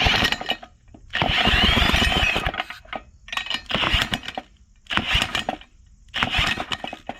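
A Tecumseh 9hp (318cc) engine from junkyard parts is cranked by a drill in repeated strained bursts, each whirring grind lasting about a second before stopping, loud and close with brief pauses between attempts.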